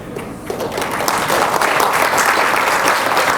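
Loud, close audience applause at a G20 summit event at VIPS, many hands clapping in a dense, sustained burst that builds slightly and holds steady.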